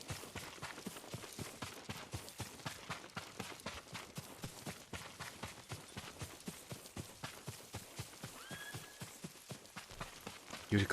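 Horse hooves clip-clop steadily on the ground in Ghost of Tsushima, a rhythmic series of close, distinct hoof strikes running through the whole clip at an even pace.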